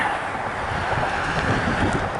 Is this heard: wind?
yes